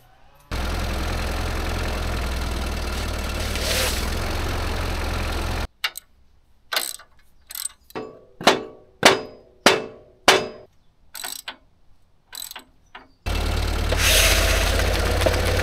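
An 80-year-old Allis Chalmers tractor engine runs with a steady rumbling drone, then cuts out. A sequence of sharp, separate knocks and clanks follows before the engine noise returns loud and continuous.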